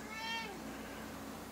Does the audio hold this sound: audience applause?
no